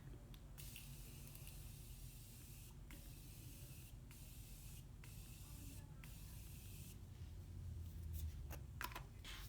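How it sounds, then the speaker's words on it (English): Morphe Continuous Setting Mist sprayed as a setting spray over a finished natural makeup look, giving a steady close hiss that runs for several seconds with short gaps between bursts. "I'm going to set this look finally with setting spray."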